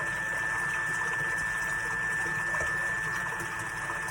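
A Thermomix runs steadily while cooking béchamel sauce, giving a continuous motor hum with a faint high whine that stays level and close for the whole stretch.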